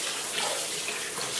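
Food being rinsed under a running kitchen tap to wash off vinegar, a steady loud gush of water that continues without a break.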